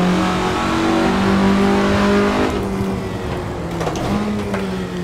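A 1967 Russell Alexis Mk.14 Formula Ford engine in the racing game Assetto Corsa drones steadily at high revs, pitch shifting with gear changes and throttle, loud and continuous.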